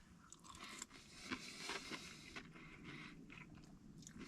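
Crunchy onions in a meal are chewed close to the mouth at a winter campsite, with soft repeated crunching and biting at a low level and no talking.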